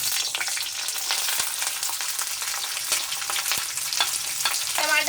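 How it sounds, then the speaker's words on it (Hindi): Chopped onion sautéing in hot refined oil in a pan for shahi soybean tikka, giving a close, loud and steady sizzle with crackling that continues without break and carries no voices. "तेल गरम हो चुका है, इसमें मैं पहले प्याज डाल दूंगी।"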